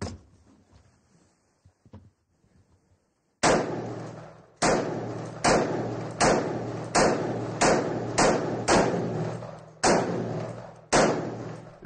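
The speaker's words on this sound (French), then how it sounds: "Le chargeur de 30 balles est vidé en quelques secondes." A 3D-printed automatic rifle fires through a 30-round magazine: about a dozen loud, sharp, evenly spaced reports, each with a short ringing decay, following a quiet lead-in.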